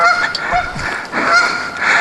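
Geese near a pond honk repeatedly and loudly at close range, a string of harsh overlapping calls with short gaps between them and no talking.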